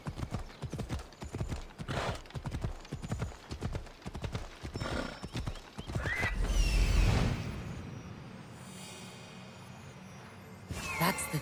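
Horse hooves clip-clop in a quick, steady rhythm in the video game Assassin's Creed Odyssey, then give way to a whinny and a louder rumbling burst before quieter ambience settles in.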